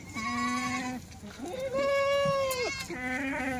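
Kathiawadi goats bleat at a livestock market in three loud, close, wavering calls, each drawn out for about a second with brief gaps between, over a busy background murmur.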